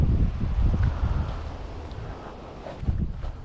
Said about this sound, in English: It's a bit windy for fishing